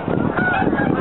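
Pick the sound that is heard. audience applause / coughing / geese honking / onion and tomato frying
geese honking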